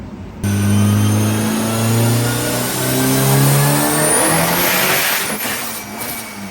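A Mitsubishi Evo 9 accelerates hard through a pull, its engine note rising and falling as it climbs through the revs, loud and close throughout before cutting off near the end.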